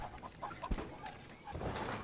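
Chickens cluck in the Stronghold 3 castle-building game, with a few soft, short clucks scattered over a busy background of ambient game sounds, fairly quiet and without speech.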